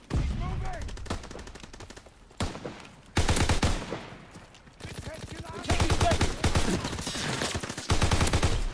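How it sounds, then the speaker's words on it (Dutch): STG-44 fire in Call of Duty: WWII multiplayer: repeated rapid bursts of automatic gunfire, loud and close, broken by brief pauses, with a voice talking over the shooting. "Op het moment dat ik begin te schieten, wat ik dus nu heb gedaan"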